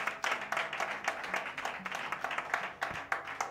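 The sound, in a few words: congregation applauding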